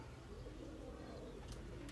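Pure Andhra pigeons, including young birds kept for sale, coo in a low continuous murmur, with a couple of brief sharper chirps near the end and no talking.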